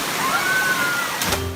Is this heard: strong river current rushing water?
yes